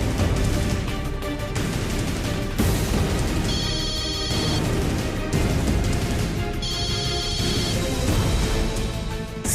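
A telephone rings and nobody answers: two separated bursts of ringing come through a loud, dense background.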